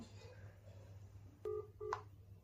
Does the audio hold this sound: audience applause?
no